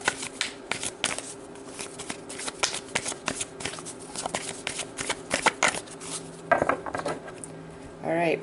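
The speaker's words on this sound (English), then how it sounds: "throw another shuffle in there" Tarot cards being shuffled up close, repeated riffling bursts and soft slaps in an uneven rhythm, with no talking.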